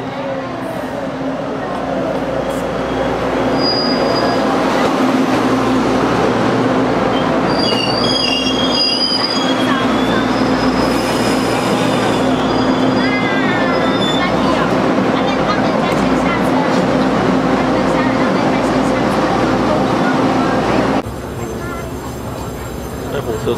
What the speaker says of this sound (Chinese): 火车进来了。